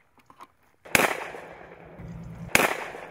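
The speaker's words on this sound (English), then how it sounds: "Now we're waiting for Tad to scare those this way to us, and they'll come the same pattern down this ridge and we get a shot" Two sharp shotgun blasts during a quail hunt on a ridge, loud and close, each followed by a rolling echo tail, spaced about a second and a half apart with faint sounds before the first shot.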